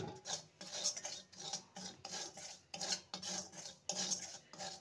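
Semolina roasting in ghee in a kadai on a gas stove, stirred steadily, with a spoon scraping the pan in a repeated rhythm of close, moderately loud strokes and no talking.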